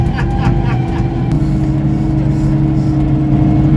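A steady, loud Steiger tractor engine drones and rumbles throughout, a heavy motor running continuously with a strong low vibration.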